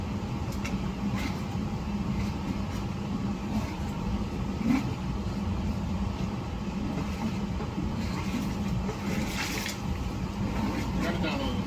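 A hydro jetting machine's engine runs steadily while it jets a sewer blocked by tree root intrusion, a continuous low rumbling drone with faint clicks and a voice occasionally speaking over it.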